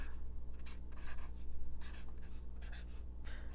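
Writing by hand in a Wonderland planner: soft, close scratchy pen strokes in short repeated bursts over a steady low room hum, with no talking.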